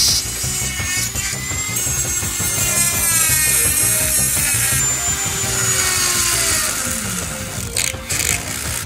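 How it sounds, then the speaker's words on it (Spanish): A small power tool whines steadily and loudly up close as it cuts and drills into the plastic arms of a Mekanek Origins action figure, its pitch wavering under load with no pauses. "Lo primero que voy a hacer es agujerear los brazos, cortar y agujerear los brazos."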